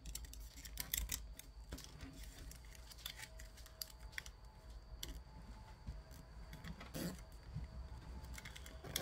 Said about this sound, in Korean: 이거를 이제 밑에 부분을 이렇게 위로 올려서 접어줍니다